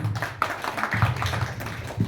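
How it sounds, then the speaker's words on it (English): An audience claps to welcome a speaker onto a stage, a lively patter of hands mixed with low thumps and some background murmur, moderately loud and close throughout. "please welcome her with a huge round of applause"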